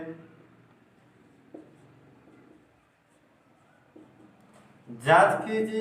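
Chalk or marker scratches across a board during a math lesson, faint short strokes and taps under a teacher's speech, with louder talk at the end.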